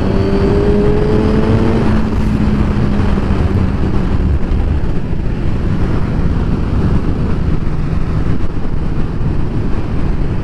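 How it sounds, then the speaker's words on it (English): A 2021 Suzuki GSX-R1000R motorcycle with a Yoshimura R11 exhaust is ridden, its engine tone easing early on before heavy, steady wind roar takes over the close, loud recording. "It sounds beautiful as well, with the Yoshimura R11 exhaust."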